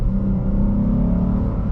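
Chrysler 300S V6 sedan engine revving under hard acceleration, a loud continuous low drone from inside the cabin that holds steady over a brief moment, with no talk.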